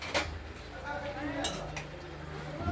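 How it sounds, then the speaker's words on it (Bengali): A spoon scrapes and clinks against a pot as a vegetable curry of potatoes, red potatoes, flat beans, cauliflower and green banana is stirred, with a few sharp metallic knocks under quiet talk. "এইভাবে নাড়বো চাড়বো, আবার ঢেকে দেবো"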